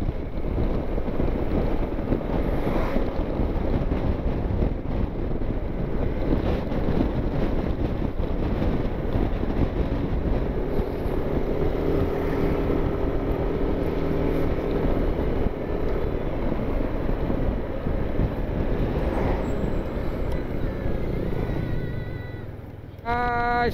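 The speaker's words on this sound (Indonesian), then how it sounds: "angin dari sebelah kiri saya ini kencang banget" Strong crosswind from the left buffets a rider on a Yamaha NMAX motor scooter touring between Bengkulu and Mukomuko, a loud, continuous rushing roar of wind on the microphone mixed with engine drone throughout.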